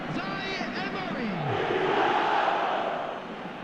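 Stadium crowd in the eFootball video game during a Champions League match between Bayern Munich and PSG, a loud, steady roar of cheering that swells midway, with shouting voices rising over it at the start.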